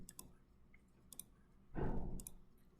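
Several sharp computer mouse clicks on interface buttons, spaced apart in short pairs, with a louder burst of broadband noise in the middle of the clip.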